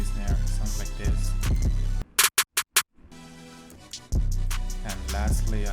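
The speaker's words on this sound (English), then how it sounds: "I have this snare, it sounds like this." A snare drum sample for a rage type trap beat plays four sharp, crisp hits in quick succession, isolated in a short gap between passages of the full beat with heavy bass.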